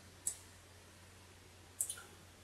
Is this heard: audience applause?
no